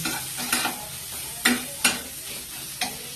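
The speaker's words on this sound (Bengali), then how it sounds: "এইভাবে এখন মশলাটাকে কষাতে হবে খুব ভালোভাবে, যতক্ষণ না মশলা থেকে তেল ছাড়ছে" Spice paste being stir-fried in a pan for an egg and fig curry, with a steady sizzle and several sharp scraping strokes of the spatula at uneven intervals, close up and with no talk.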